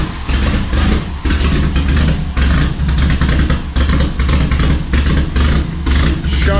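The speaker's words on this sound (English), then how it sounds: "Chunky idle." A Volvo 740 engine idles roughly, a loud, steady, close rumble with a slightly uneven, lumpy pulse throughout.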